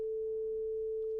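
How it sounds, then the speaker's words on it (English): A single steady synthesizer tone from one isolated oscillator of FL Studio's 3x Osc, a pure sine-like hum held evenly and alone like a dial tone, cutting off at the end. "I'm going to isolate just one of the oscillators so that it sounds like this."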